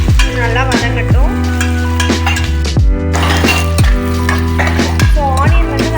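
Onions and curry leaves fry loudly in a pot for mushroom biryani, a constant sizzle beneath rhythmic metallic clinks and scrapes of a ladle stirring every second or so, up close with no talking.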